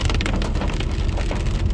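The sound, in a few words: heavy rain on the Tapah-Cameron Highlands road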